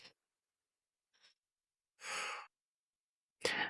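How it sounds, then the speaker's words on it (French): A relaxed deep exhalation through the mouth during a guided yin yoga heart-opening session, a soft airy sigh preceded by faint breathy sounds, close and quiet in an otherwise silent room. "Expire par la bouche."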